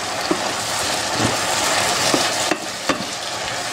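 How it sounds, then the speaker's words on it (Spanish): Cognac splashes into a hot pan of meatballs and mushrooms, setting off a loud, even sizzle with a few sharp clinks and stirring knocks, no voices. "ahora vamos a echar nuestro coñac"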